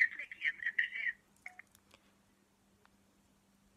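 Telephone touch tones as a number is dialed: a quick run of electronic beeps in the first second, then a couple of stray tones and near silence with a faint steady hum.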